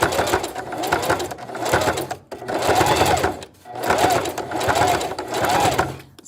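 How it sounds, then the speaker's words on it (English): Domestic sewing machine back stitching a quarter-inch seam, its motor running in three sustained, steady bursts separated by brief pauses, close and fairly loud. "And I back stitch over them."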